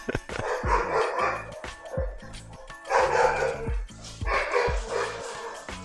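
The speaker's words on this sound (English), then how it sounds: "Dogs are going wild right now." Several dogs barking excitedly in repeated bursts of loud, close barks and yips, with a voice talking over them at times.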